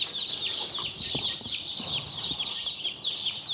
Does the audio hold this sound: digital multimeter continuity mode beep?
no